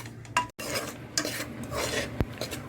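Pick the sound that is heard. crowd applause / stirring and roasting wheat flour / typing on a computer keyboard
stirring and roasting wheat flour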